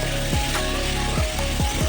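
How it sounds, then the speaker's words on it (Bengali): Potatoes and onions sizzle loudly and continuously in a pan with cumin and chili, with repeated scraping strokes as a spoon stirs them. "নাড়তে নাড়তে এটা কিন্তু ভাজা ভাজা হয়ে যাবে"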